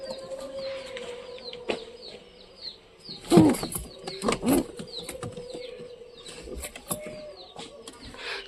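Pigeons being paired in a loft coo softly, with bursts of wing flapping and scuffling near the middle, amid faint background chatter and low ambient noise.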